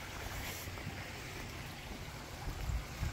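Koi pond waterfall flowing steadily in a backyard aquascape, a continuous broadband wash of splashing water at close range with slight swells near the end, no voices.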